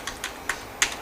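Keys tapped on a computer keyboard, five or six separate close clicks spaced irregularly over about a second, crisp and fairly quiet against a low background.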